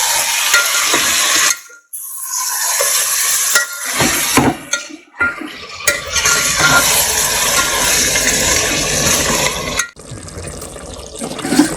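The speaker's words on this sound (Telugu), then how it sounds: "పెరుగు కూడా యాడ్ చేసుకొని చక్కగా ఈ పెరుగంతా బాగా కలిపేసి ఒకసారి కలిపేసుకోండి." Yogurt is stirred into chicken biryani masala in a pot, giving wet, uneven slopping and scraping sounds broken by short pauses, with a faint sizzle beneath.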